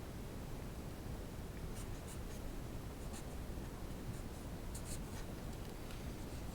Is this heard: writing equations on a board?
yes